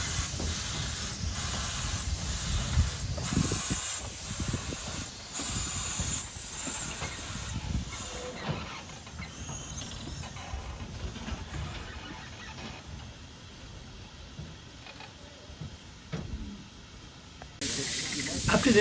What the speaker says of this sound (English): Here the train drifts into the wayside station of Capy.